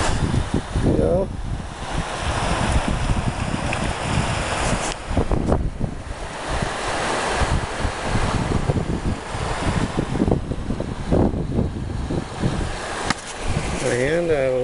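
Strong wind buffets the microphone during gold sluicing outdoors in a wind storm, gusting roar with rushing water, and someone speaks intermittently over it.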